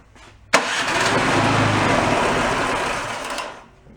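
Snowblower engine from a garage-sale machine starting on choke, an abrupt catch followed by a loud, steady buzzing run for about three seconds before dying away, close and alone.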